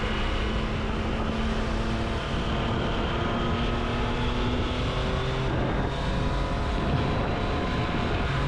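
A Triumph Daytona 660 motorcycle engine hums steadily outdoors at low, even revs, with wind noise on the microphone and no talking.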